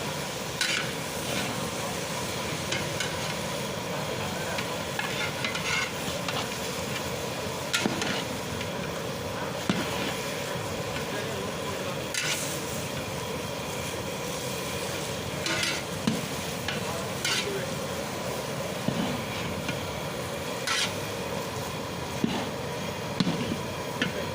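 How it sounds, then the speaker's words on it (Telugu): Mixed vegetables for a vegetable pickle are stirred in a hot pan, a constant loud frying sizzle with repeated scraping and clattering stirring strokes throughout. "ఆల్ మిక్స్డ్ వెజిటబుల్స్ అన్నీ యాడ్ చేసుకున్న తర్వాత మంచిగా కలుపుకోవాలి"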